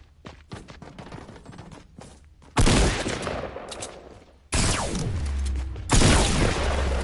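Fortnite gunfire: scattered light clicks give way to loud, dense bursts of shots close up, with a long sustained volley, a brief pause, then more heavy fire; no talk over it.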